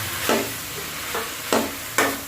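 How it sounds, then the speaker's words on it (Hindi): Potato and capsicum sautéing with spices in a pan, with four distinct scraping stir strokes over a steady low sizzle, close and moderately loud, with no voices. "अच्छे तरीके से भून लेंगे।"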